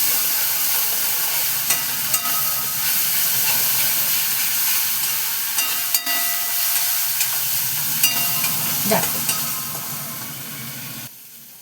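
Spice masala frying in oil in a pan for fish kachori, a steady close sizzle and hiss with occasional scraping stirs, continuous and fairly loud; a single word is spoken near the end.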